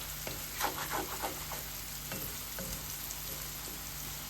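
Shredded potatoes for hash browns fry in a pan with a steady soft sizzle, while a spatula stirs and scrapes through them in a few close, light strokes.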